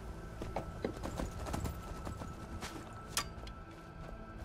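Horse hooves clip-clop steadily at moderate distance in Skyrim, a continuous rhythmic walking gait with a brief louder clatter near the end, no voices.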